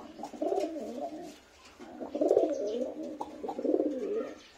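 A pair of yellow Dobaz pigeons coo close by in three rolling, throaty bursts with short pauses between them, over a quiet background.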